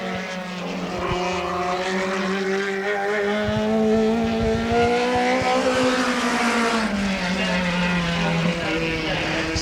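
USAC National Midget race car running a qualifying lap at Kansas City, a loud, continuous, high-revving engine drone that rises and falls in pitch through the turns, with a commentator talking over it.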